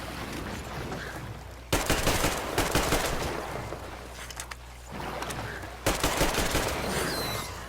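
Gunfire in Metro Exodus, two long bursts of loud, rapid automatic fire separated by a quieter stretch of steady background noise.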